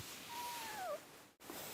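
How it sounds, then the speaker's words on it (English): A house cat lets out one soft, drawn-out meow, faint and fairly close against quiet room tone, followed by a brief silence. "that's our cat Silver and our daughter Willow"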